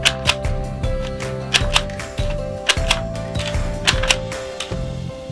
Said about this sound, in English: the label is loaded into the gun and we just have to click out a few